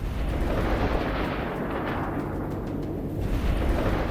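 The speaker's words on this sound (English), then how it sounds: "The lead vehicle tried to accelerate and push through, but struck a concealed mine. The explosion sent up dense smoke" An armored vehicle strikes a concealed mine and explodes, heard as a dense, continuous low rumble and roar that fills the whole stretch at high level, with no voices.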